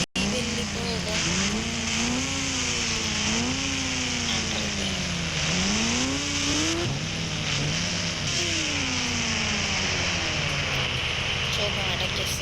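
A motorbike engine in a video game drones steadily and rises and falls in pitch as it revs, loud and continuous, with someone speaking over it.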